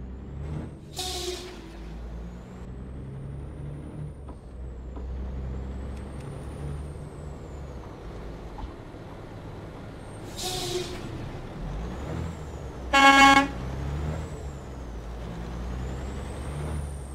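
A truck engine idles low and steady in Euro Truck Simulator 2 while loud air brake release hisses burst out three times, sharp and sudden, with faint tones in the background.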